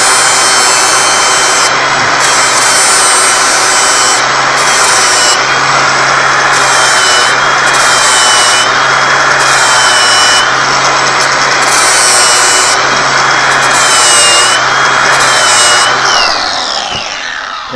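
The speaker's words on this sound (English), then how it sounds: "So we're going to give these a quick little sharpen before we get back to mulching." Mulcher teeth on a Chinese mini skid steer being sharpened with a grinding power tool, a loud, continuous abrasive whine with periodic dips as the tool moves between teeth, an engine hum beneath, and the noise tapering off at the end.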